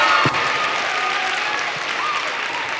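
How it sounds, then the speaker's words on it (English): Loud, sustained audience applause at a school honor choir concert, honoring the directors of the Warren Central High School Jazz Band, with a strong start that settles into an even roar of clapping and faint crowd voices. "I'd like you to give a giant round of applause to Mr. Matt Killen and Mr. Kevin Mullen"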